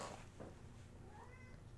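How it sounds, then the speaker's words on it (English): A pet cat meows faintly a couple of times at a door to be let in, heard quietly in the background of a room with a low steady hum. "Oh, my cat's meowing."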